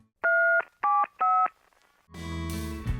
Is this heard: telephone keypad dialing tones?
yes